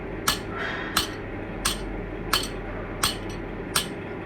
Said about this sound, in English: So that's why I resorted to hammering a bit here.